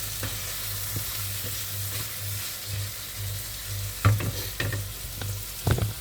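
Rice frying and browning in a pan, a steady close sizzle with a low hum beneath and a few scraping stirs near the end, no talk.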